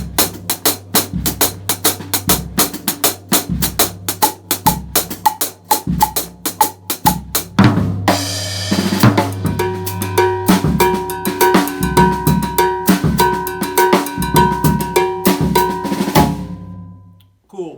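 Latin jazz drum fill in Afro-Cuban style, with the anda pattern struck on the floor tom leading into the downbeat: crisp rhythmic hits, then a fuller groove with cymbals and bright ringing tones, loud and close, no voices.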